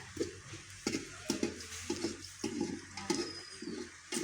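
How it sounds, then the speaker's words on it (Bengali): Pulao rice cooking in a pot at a home kitchen, with a steady run of soft rhythmic scraping and bubbling sounds, about two per second, close and moderately quiet. "এই যে পোলাও রান্না হচ্ছে"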